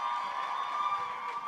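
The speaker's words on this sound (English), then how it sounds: "Give them one last round of applause" Audience cheering and applauding after a sophomore dance performance at a college cultural show, a steady, dense wash of claps and shouts that holds at an even level throughout.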